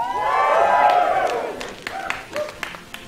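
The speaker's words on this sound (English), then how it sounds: "I ask everyone in the audience to give a big cheer." An audience cheers in a loud swelling burst of voices at a storytelling show, then fades into scattered whoops and a few claps.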